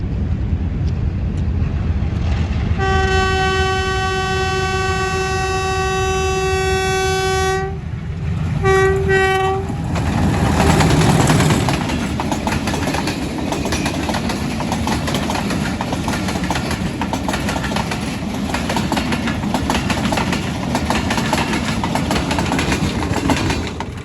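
The Khyber Mail passenger train passing at speed near Lahore, a long steady horn blast followed by a short second blast, then a loud continuous rumble and clatter of wagons rushing by close up.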